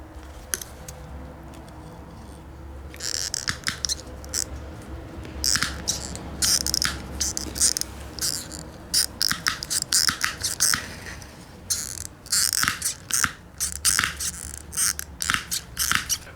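Wire mesh for a Jeep Wrangler grill insert is cut with a series of sharp, crisp snips and clicks coming in irregular bursts, close to the microphone, against a low background hum, with no talk.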